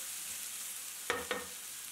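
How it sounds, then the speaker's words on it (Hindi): Chopped onions with turmeric sizzle softly in a pan while cooking for masala aloo chole, a steady close frying hiss broken by two quick clacks of a spoon stirring, with no voices. "प्याज को हमने अच्छी तरह से पका लेना है।"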